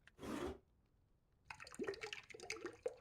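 Water poured in the Italian Pizza Simulator video game, a short rushing splash lasting about half a second, followed by silence and then rustling, clattering game sounds.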